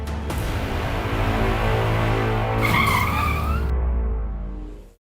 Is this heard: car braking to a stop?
yes